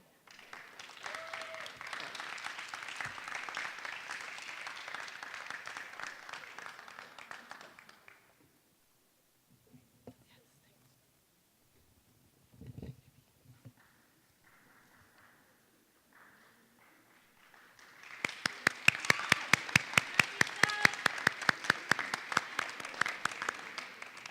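Audience applause for the third-place winners of a school integrity competition final round, two long bursts of broad clapping in a hall separated by a quiet stretch with faint movement, the second burst loud and dense.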